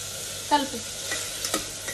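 Mutton and onion stir-fried in a pan, a short burst of sizzling with a couple of scraping stirs, close and moderately loud.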